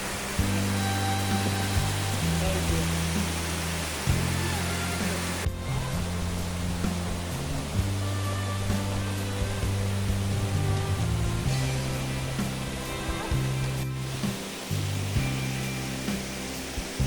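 Steady, continuous roar of the Hivernade waterfall, dense and loud throughout with no voices, heard up close.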